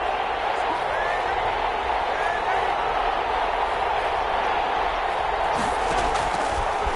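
A stadium crowd in a football video game roars in a steady, dense wash as a big third down approaches, sustained throughout with faint commentary underneath.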